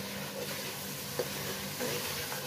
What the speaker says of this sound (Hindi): आहिस्ता चमचा घुमाते रहना है ताकि ये नीचे ना लगे